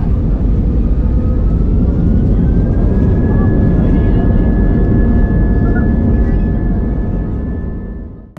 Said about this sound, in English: Now sit back and enjoy some great takeoff views.